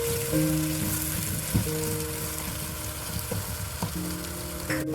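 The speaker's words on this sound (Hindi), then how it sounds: "ये भी साथ में फ्राई हो जाएगा। 2 मिनट में इसको फ्राई करना साथ में।" Whole garam masala fries in a pan for mutton yakhni pulao, a soft, steady crackling sizzle with a few light utensil taps, fairly quiet and without voices.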